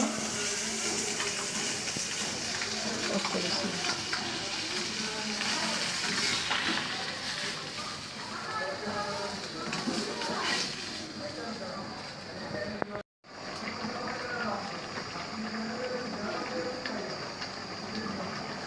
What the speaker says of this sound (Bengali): দেখো মাছগুলা লাল লাল করে ভেজে নিচ্ছি